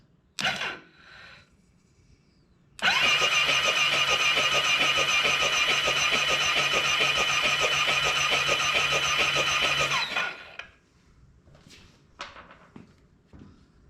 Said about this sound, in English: I'm going to try to trigger the starter to blow out any oil or residue that could be on top of the pistons